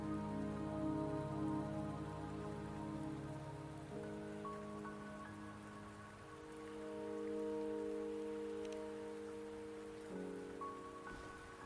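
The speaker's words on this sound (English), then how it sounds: "Don't worry, the rain won't last much longer." Steady rain in Wuthering Waves patters on surfaces beneath sustained, soft musical tones, even and continuous throughout.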